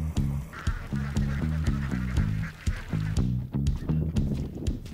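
A flock of ducks being driven along with a long pole quacks loudly and repeatedly in rapid, overlapping bursts, close by and continuous, with no clear speech.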